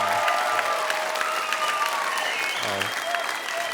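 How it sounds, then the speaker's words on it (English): Comedy show audience applauding at the end of a stand-up special, a dense sustained roar of clapping with scattered cheers and a few voices mixed in. "Give yourselves a big round of applause."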